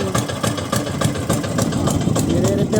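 A boat engine idles through its exhaust with a steady, rapid pulsing throb and a low rumble, close and continuous, while someone talks over it.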